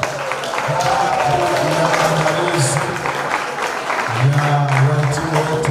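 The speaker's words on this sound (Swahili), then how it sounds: "Jamani, makofi na vigelegele." Steady applause from a crowd at a college graduation ceremony, with high warbling ululation rising above the clapping throughout, dense and sustained.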